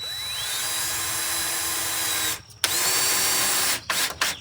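A power drill drives 1.5 inch drywall screws into a 2x4 during a Toyota Sienna camping conversion: a loud, sustained motor whine, a brief stop, a second long run, then a few short trigger bursts.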